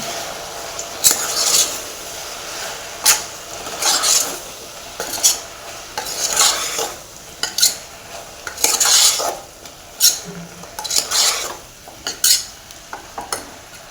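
Potato and brinjal curry with chilli powder is stirred in a pan, a utensil scraping in repeated rhythmic strokes, each a short loud swish, over a faint background sizzle.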